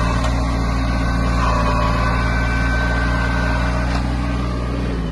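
A Kubota A-175 Japanese mini tractor engine runs steadily, a loud, even mechanical hum with a constant low throb and no change in pace throughout.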